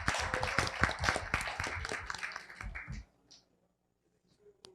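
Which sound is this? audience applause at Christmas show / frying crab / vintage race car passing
audience applause at Christmas show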